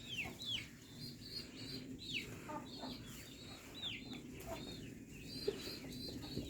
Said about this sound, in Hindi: ये सारा असील मुर्गा